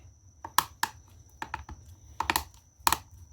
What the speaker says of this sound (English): when I turn this, all it's doing is clicking